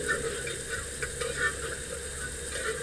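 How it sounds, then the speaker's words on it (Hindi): Red chili powder spice mix fries in a pan for a tadka, a soft, fairly faint continuous sizzle with occasional light scraping stirs and small clicks, with no voices. "दोनों को मिक्स करके मैं इसे फ्राई कर रही हूँ"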